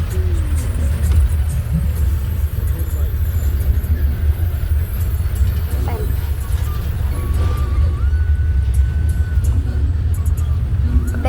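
Buses and vans on the road to Tirupati, heard from a moving van: heavy, continuous engine rumble with brief brake hisses, as voices talk over the traffic.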